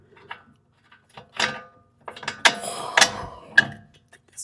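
A ratchet works a suspension bolt loose on a 2009 Toyota Corolla, producing bursts of metallic clicking and rattling with short pauses between strokes, close up.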